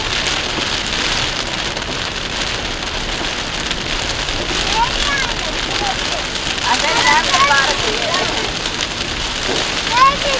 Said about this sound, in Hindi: अब तो सुनो बारिश की आवाज।